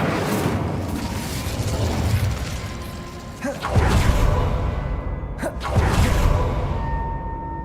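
Incendio fire spell cast in Hogwarts Legacy, a few whooshing blasts and booms rising out of a busy mechanical game soundscape, one after another.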